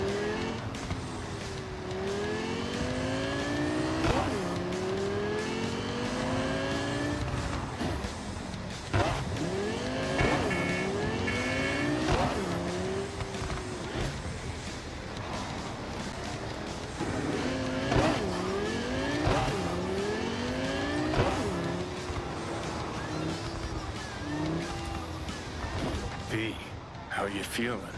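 A car driven through the streets of Night City in Cyberpunk 2077, its engine droning steadily with rising and falling revs and occasional tire squeals, continuous and close, with someone talking over it.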